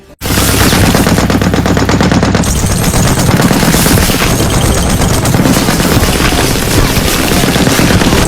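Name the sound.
machine gun fire in war film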